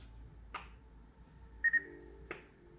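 A Simucube wireless wheel base gives a short electronic beep when it enters adjustment mode, a brief tone pair sounding clearly over a quiet background with a few faint clicks around it.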